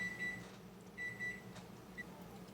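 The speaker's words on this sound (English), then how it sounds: "that is my timer" A kitchen timer beeps in short bright bursts, faint and fairly distant, during home cooking of comfort-food dinners like meatloaf, with a low steady hum underneath.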